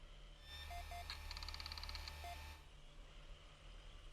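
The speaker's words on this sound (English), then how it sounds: "It's a series of beeps as you hear spinning discs suddenly come to a halt." Wasteland 3 video game computer machinery: a few soft electronic beeps and a rapid chattering of spinning discs winding down over a steady low hum, then cutting off into quiet hum.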